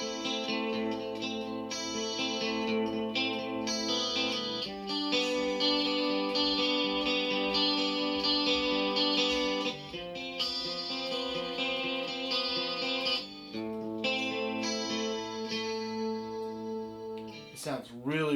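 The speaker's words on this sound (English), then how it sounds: "So I love that 12 string sound." A shimmering, chorus-laden 12-string guitar tone from a Boss GT-1000 effects unit preset rings out in sustained strummed chords, with a brief pitch swoop at the end.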